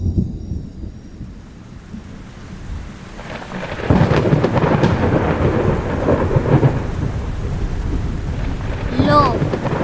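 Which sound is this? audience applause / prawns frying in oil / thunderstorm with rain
thunderstorm with rain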